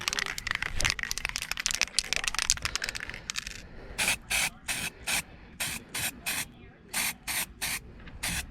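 Car trim on a 1999 Lincoln Navigator is spray painted, first with a dense run of close aerosol bursts, then a series of evenly spaced short spray hisses with brief pauses between them.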